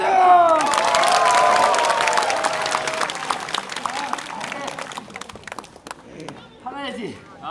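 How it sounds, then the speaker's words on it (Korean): Crowd clapping and cheering at a Namsadang folk performance at the Korean Folk Village, loud and dense at first, then thinning into scattered claps, with a voice calling out over it and children's voices toward the end. "박수!"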